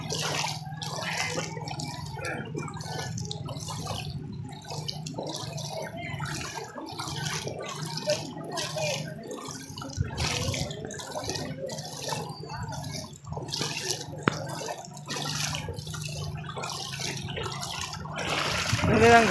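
Heavy monsoon rain runoff flowing and trickling through a village street in an Ahmedabad settlement, a steady close wash of running water with drips, while someone speaks intermittently over it.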